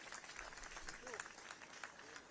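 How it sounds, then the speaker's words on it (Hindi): Audience applause at a foundation-laying and inauguration ceremony in Rithala, a steady patter of many hands clapping with crowd noise throughout, heard at a moderate distance. "एक बार ताली जोरदार होनी चाहिए भाई।"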